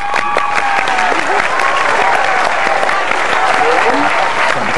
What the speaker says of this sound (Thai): ขอเสียงปรบมือให้กับคุณ